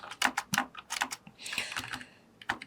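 Quick bursts of keystrokes on a computer keyboard while C code for an if-else program is entered, close and crisp, with brief pauses between clusters of taps.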